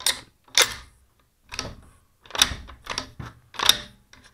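Tikka T3 rifle bolt cycled by hand to chamber a dummy round, a close series of sharp metallic clacks and slides in irregular bursts, with no talking.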